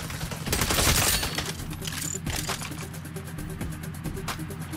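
Turret machine gun fire rattles in Saints Row, a loud, rapid stream of shots that peaks early then continues as a fast, steady staccato against the game's background.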